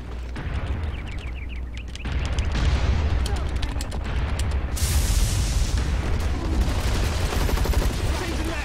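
Video game gunfire crackles in dense rapid bursts for most of the clip, with occasional heavier booms, while players talk over it.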